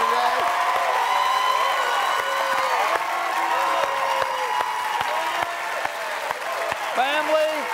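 A television game-show studio audience cheers and applauds for a contestant with steady, dense clapping and whoops throughout, while voices carry on over the crowd.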